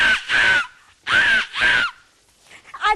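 A performer on stage imitates a crow cawing with her voice: two pairs of harsh, raspy caws separated by a short pause, loud and close, ending with a faint trailing vocal sound.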